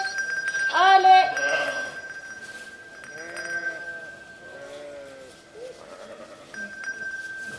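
Ewes bleat in a flock, several wavering calls overlapping near and at mid-distance, with metallic clinks and a person's voice mixed in.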